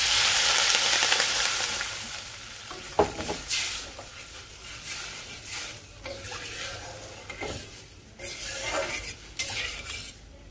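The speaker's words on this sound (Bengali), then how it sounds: "আলুটা একটু ভাজি করে দিই" Potatoes stir-fried in a pan, a loud continuous sizzle with frequent scraping and clinking of a spatula against the pan, rising and falling as the pieces are turned.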